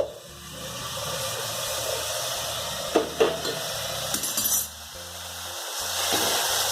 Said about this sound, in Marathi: पाणी घालते गरम पाणी केलंय